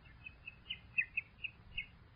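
Small bird chirps used as a radio drama sound effect in a cold, windy attic setting, seven or eight short, bright tweets spaced irregularly over faint background hiss.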